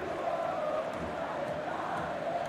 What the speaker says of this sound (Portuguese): O som do estádio tá bom, as duas torcidas agitadas